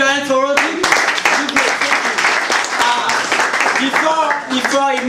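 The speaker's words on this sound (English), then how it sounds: "Can you clap your hands for Rodney?" An audience at the PSLS Competition 2016 claps for Rodney. Loud, dense applause fills the middle, with a voice speaking just before the clapping starts and again as it fades out.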